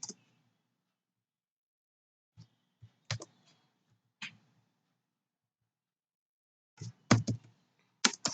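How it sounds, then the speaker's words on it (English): Short bursts of computer keyboard typing while entering a SQL date query, scattered clusters of quiet clicks separated by long silences, close and faint with no voices. "you have to type select trunk and then type this"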